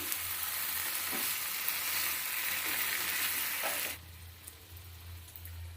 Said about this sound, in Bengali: গ্যাসটা কম করে রেখে এভাবে কষিয়ে নেবো আস্তে আস্তে